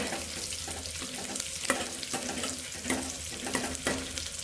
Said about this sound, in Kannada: ಒಗ್ಗರಣೆ ಹಾಕ್ತಾಯಿದ್ದೀನಿ.